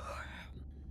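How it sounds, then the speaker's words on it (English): A character in the underwater exploration game Beyond Blue gives a brief, soft, breathy yawn that trails off quickly into near silence. "Was that a yawn?"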